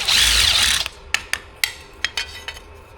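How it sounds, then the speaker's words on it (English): A step drill unibit deburrs the back of a freshly drilled hole during an under-dash air conditioning install: a short burst of whirring drilling, then a series of sharp, uneven scraping clicks, close and loud with no talk. "Just kind of deburr the back of it like that."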